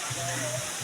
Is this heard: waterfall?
yes